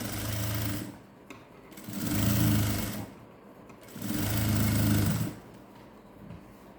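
A sewing machine runs in three bursts of about a second each, stitching a Patiala pant seam, with brief pauses between runs and a steady close hum.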